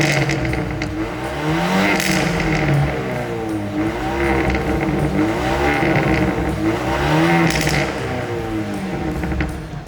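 A Fiat Fastback Abarth SUV's exhaust roars steadily with a rising and falling engine note, loud and continuous for several seconds with mechanical rasp.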